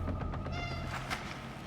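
A cat meows in the video game Cronos: The New Dawn, sounding as a few quick, close meows and then a longer, drawn-out cry over a low game background hum, with no voices.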